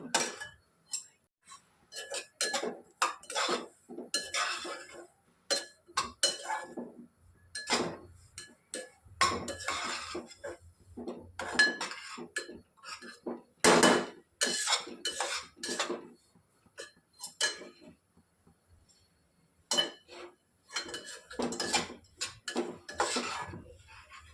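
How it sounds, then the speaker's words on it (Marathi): Semolina (rava) roasting in a pan over medium heat for sweet jaggery sheera, stirred with a spoon that keeps clinking and scraping against the metal in bursts of irregular, fairly close strokes and short pauses. "रवा आपल्याला मध्यम आचेवर सारखा हलवत राहायचा आहे, जेणेकरून तो खाली करपणार नाही."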